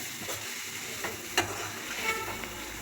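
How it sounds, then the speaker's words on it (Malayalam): A capsicum filling for homemade shawarma is stirred in a pan, with a soft, steady frying sizzle and a few faint scraping taps of the spoon. "അതെല്ലാം നമുക്ക് എല്ലാം ഇട്ട് കൂടി ഇളക്കാം നന്നായി ഇളക്കി കൊടുക്കണേ"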